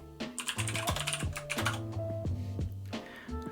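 Loud, rapid typing on a computer keyboard, close up, with quick irregular clusters of clacking keystrokes, some heavier presses among them, and no talking over it.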